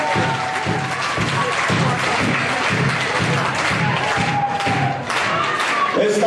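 A festival audience gives dense, sustained applause for the dancers, loud continuous clapping with some cheering throughout.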